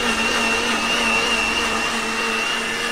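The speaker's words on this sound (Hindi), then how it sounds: "और हम ये अभी पीस रहे हैं अदरक लहसुन का पेस्ट।" Kitchen blender grinding ginger and garlic paste for chutney, a steady loud motor whine with a constant high pitched hum and dense grinding noise, close and uninterrupted with no speech.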